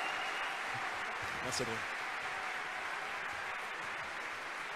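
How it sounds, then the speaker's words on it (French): An audience at an anniversary gathering applauds a couple with a steady wash of moderate, slightly distant clapping, and a brief spoken thanks cuts in near the start. "On peut les applaudir bien fort"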